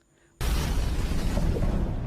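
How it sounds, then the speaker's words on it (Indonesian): A bomb detonates in a spy action film: a sudden, loud blast erupts after near silence and rolls on as a dense, sustained roar of debris and rumble. "Tak lama setelahnya, bom itu meledak."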